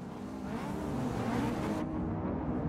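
Race cars in the Forza 6 demo rev their engines at the start of a race, a steady, loud engine drone with rising whine that holds throughout with no talk.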